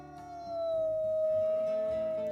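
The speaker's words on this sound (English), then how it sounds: "Let's do a howl now that we're back." A single long wolf howl from a video game, sustained and clear with a slight bend in pitch, over soft background game sounds and with no talking.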